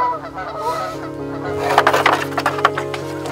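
Geese honking on a lake, a cluster of loud, close honks rising and overlapping in the second half over a steady low hum, with no talking.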